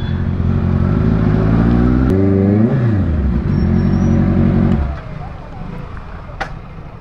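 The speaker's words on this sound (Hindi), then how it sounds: "वो एकदम से यू स्पीड पकड़ती है भाई" A Honda CBR650R engine drones loudly and steadily, then rises sharply in pitch as it accelerates, holds a high whine, and drops away after about five seconds, leaving quieter background noise with voices nearby.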